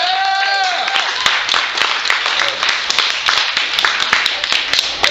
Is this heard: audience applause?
yes